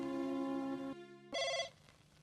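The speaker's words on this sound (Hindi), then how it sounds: "अजय किसका फोन हुआ है?" A telephone bell rings in a short, bright burst, pauses, then rings again briefly before fading. No voices.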